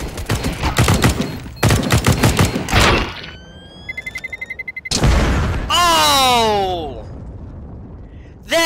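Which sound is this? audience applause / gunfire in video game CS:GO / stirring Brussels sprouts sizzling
gunfire in video game CS:GO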